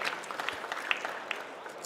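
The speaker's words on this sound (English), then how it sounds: "So big applause, ladies and gentlemen" Short round of applause from an audience at an industry trade-fair stage event, a quick patter of clapping heard at moderate distance with faint voices underneath.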